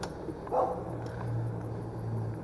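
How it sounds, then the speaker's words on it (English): A dog gives a single short, fairly distant bark outdoors under a steady low background hum, with no other clear sounds. "Fucking dog."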